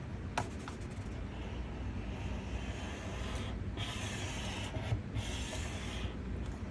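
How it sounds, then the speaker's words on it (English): Paper being scored for a card hinge while making Christmas postcard mailers: a steady, close scraping rasp runs throughout, with a few brief sharper strokes partway through. "I know that it's going to hinge on this side, so I'm going to score it at 1/2 inch"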